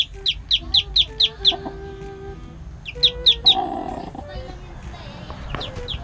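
A chicken gives a run of quick, sharp high clucks close by, then a second burst and a few later calls, with low background noise and some murmuring between them.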